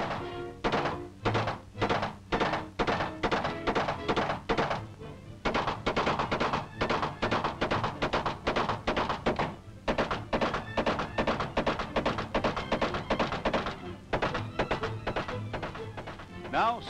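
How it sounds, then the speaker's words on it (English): Rifles fire at an FBI Bureau headquarters range in Washington, the sharp shots coming in rapid bursts broken by short pauses, loud and close, with intermittent voices underneath. "Intermittent firing."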